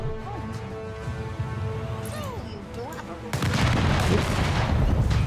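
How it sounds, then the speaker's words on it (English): Warships shelling an island in Anno 1800 set off a loud, dense barrage of booming artillery blasts. It comes in suddenly after a quieter stretch of scattered shots and game sounds. "Okay, we're bombarding it, but they're counter-bombarding."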